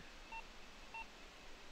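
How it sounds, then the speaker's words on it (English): Two short electronic beeps sound when a key is pressed in the ghost-hunting video game Ghost Exorcism Inc, spaced about half a second apart against a faint steady background hiss. "when I press B, I'm hearing a beep."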